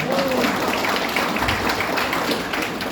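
An audience at a business opportunity meeting claps loudly and continuously, a dense, rain-like roar of many hands that holds steady from start to finish, with a brief voice near the beginning.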